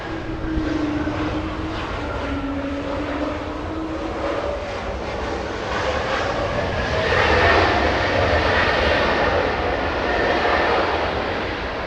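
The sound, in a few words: Delta 708 jet airliner arriving at Los Angeles International Airport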